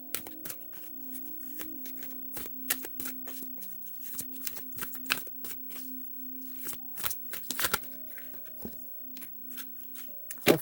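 Tarot cards being shuffled by hand in a quiet room, a long run of quick riffling and slapping bursts, close and fairly soft, over a low steady hum.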